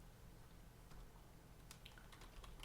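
Someone types on a computer keyboard, a quiet, irregular patter of soft key clicks with a few sharper taps over faint background hum.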